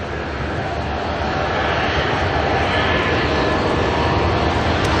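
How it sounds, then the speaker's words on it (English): Jetstar Airbus A320 departing Auckland Airport, a steady broad jet engine roar held at constant loudness, fairly distant, with faint voices now and then. "We do have a Jetstar going out. This one's heading off to Wellington, the A320."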